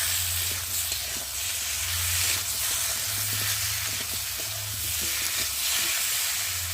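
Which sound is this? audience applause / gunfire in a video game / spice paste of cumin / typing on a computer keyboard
spice paste of cumin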